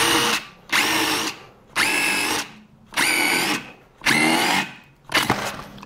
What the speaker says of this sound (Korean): 철제를 뚫어서 정말 올인원 기능을 발휘하는지 시작해